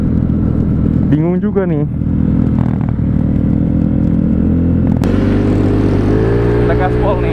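A Yamaha Mio 155cc scooter engine drones steadily under someone talking, its low tone shifting upward as the throttle is opened toward the end.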